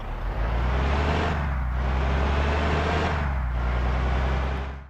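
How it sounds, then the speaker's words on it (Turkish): Bus engine from a mobile bus simulator game, a steady loud low rumble with constant droning hum and broadband noise that dips briefly twice, no speech. "biz otobüs seslerine bakmadık lan. Dur bunun sesine bari bakalım."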